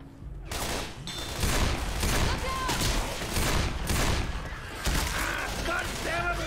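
Rapid bursts of gunfire from a Left 4 Dead zombie shootout rattle loudly and almost continuously, with overlapping shots and short pauses between volleys.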